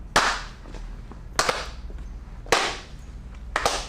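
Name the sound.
people clapping hands at the same time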